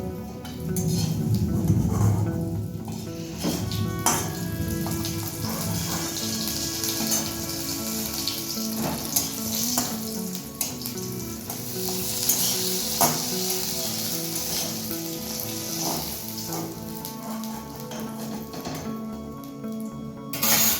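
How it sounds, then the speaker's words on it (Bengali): Ash gourd leaves are laid into a hot oiled pan, a loud burst of sizzling at first that settles into steady close crackling and popping, with intermittent utensil clatter and no voices. "বাকি পাতাগুলোকেও ওই একইভাবে ভাজতে দিয়ে দিচ্ছি।"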